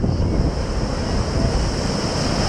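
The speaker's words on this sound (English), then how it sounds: "look at these waves coming for me" Continuous roar of ocean surf crashing nearby at Horseshoe Bay, Bermuda, with wind buffeting the microphone throughout.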